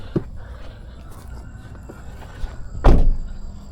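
A car door thunks shut once, loud and close, after a few faint clicks and handling noises, with outdoor ambience and no talking.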